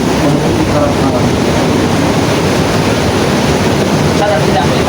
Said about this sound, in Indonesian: Dengarkanlah suara ombak begitu kencang dia menghampar batu karang